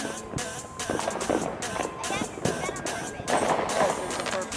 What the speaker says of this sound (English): why would they throw a huge firework like that on the ground, knowing that it'll explode there?